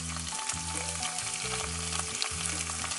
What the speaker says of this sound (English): Add the garlic. 2 teaspoons of garlic.